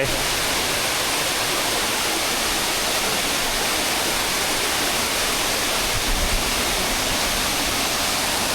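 A loud, constant roar of falling water from the tall Sarika Waterfall in Nakhon Nayok, Thailand, close and unbroken, with no pauses throughout.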